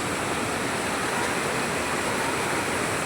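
Water rushes strongly near a temple, a dense, constant roar that holds at one level throughout, with no voices heard.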